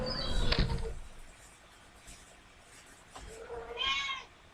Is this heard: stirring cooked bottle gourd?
no